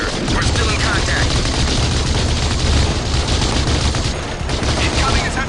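Heavy small arms gunfire from the PlayStation 2 game Battlefield 2: Modern Combat, a dense continuous rattle of rifle and machine-gun bursts with distant booms, loud and unbroken throughout.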